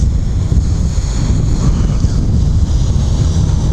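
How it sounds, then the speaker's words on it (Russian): Strong wind buffets a handheld microphone outdoors in late snow in a steady, loud roar of low rumbling gusts, with no voices. "Ветер сильный дует."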